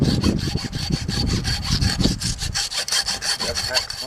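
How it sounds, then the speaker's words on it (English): A hacksaw cuts through a deer carcass during quartering, giving steady, close, rhythmic back-and-forth strokes of rasping sawing that fill the clip with no talk over them. "Okay, hacksaw."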